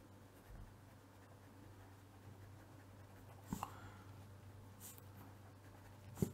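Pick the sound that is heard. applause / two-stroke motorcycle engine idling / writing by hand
writing by hand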